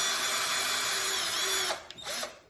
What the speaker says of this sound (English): I'm going to take a drill and just pre-drill 2 little starter holes.